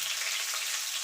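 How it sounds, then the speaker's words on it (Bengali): Black cumin seeds and green chilies frying in a small amount of oil, giving a continuous bright sizzle with steady crackle close to the pan and no talking. "ফোড়নটা একটুখানি ভাজা ভাজা করে নেব।"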